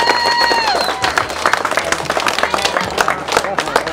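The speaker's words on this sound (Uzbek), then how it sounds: "Qarsaklar chalib qo'yamiz." A gathering in Bukhara breaks into brisk applause from the seated audience, dense clapping that carries on for several seconds after a brief tone at the start.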